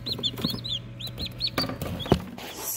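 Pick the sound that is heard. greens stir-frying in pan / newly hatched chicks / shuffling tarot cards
newly hatched chicks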